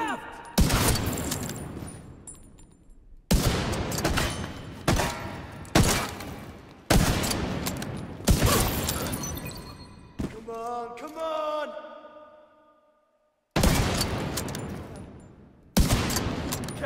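Loud bursts of gunfire in the video game The Division 2, fired in several repeated volleys with short gaps and one brief silence, with game voices heard over the shooting.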